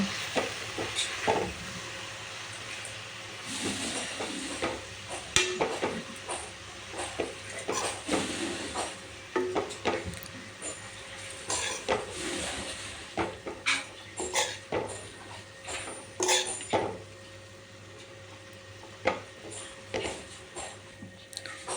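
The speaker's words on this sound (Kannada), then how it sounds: "ಸ್ವಲ್ಪ ಹೊತ್ತು ನಾವು ಇದನ್ನು ಎಣ್ಣೆಯಲ್ಲಿ ಈ ರೀತಿ ಚೆನ್ನಾಗಿ ಮಿಕ್ಸ್ ಮಾಡಿಕೊಳ್ಳುವ" Drumstick leaves fry in hot oil while being stirred, giving a steady sizzle with frequent scraping clicks of a spatula against the pan, fairly close and continuous throughout.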